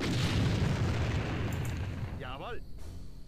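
Artillery fire in the real-time strategy game Empire Earth, a dense, continuous rumble of booms and blasts rolling loud for most of the clip, easing slightly toward the end as a voice speaks over it.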